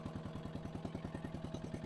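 A barn-find dumper's diesel engine runs fast and steady at high revs, its rapid even chugging loud and close, with no voices.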